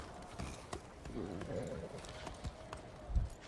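Horse hooves clip-clop in a fantasy TV series, a steady near trot running under talk from both the show and its viewers.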